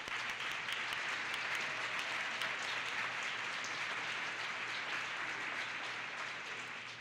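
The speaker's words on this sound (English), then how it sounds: "please give them a hand of applause." Applause fills a school board meeting to honor volunteer board members: a steady, even wash of many hands clapping at once, lasting about seven seconds and fading slightly at the end.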